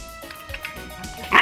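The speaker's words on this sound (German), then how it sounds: "Sie ist futterneidisch und knurrt ihre Geschwister vom Napf weg." Fox Terrier puppies at a feeding bowl, with short yips and whimpering dog sounds up close, ending in a louder sharper yelp; no clear sustained growl.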